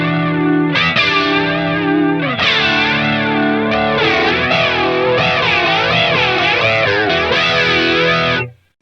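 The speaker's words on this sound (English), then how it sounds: "So I can crank on delay. Or if there's a modulation effect." Electric guitar played through delay and modulation effects in the BIAS FX Mobile amp app, sustained chords with a wavering chorus shimmer and echoing repeats, loud and alone before cutting off.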